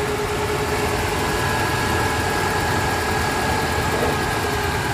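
A 1995 Toyota Starlet with a 1.3 engine idles smoothly, giving a steady, even hum with no revving, close by and with no one talking.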